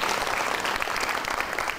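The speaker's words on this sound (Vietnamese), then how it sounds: "một tràng pháo tay thật lớn để cùng chào đón ạ" Enthusiastic applause from a gathered crowd at the opening of a yoga centre, dense continuous clapping throughout with no speech over it.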